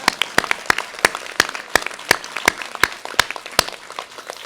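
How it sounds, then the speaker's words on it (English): Sparse audience applause at a lecture event in Hong Kong: a handful of distinct, fairly close claps at a loose, uneven rhythm rather than a full ovation. "Now you can clap."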